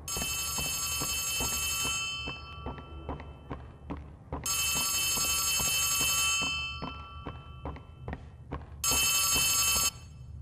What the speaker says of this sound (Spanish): Luego un teléfono al fondo. A lo lejos.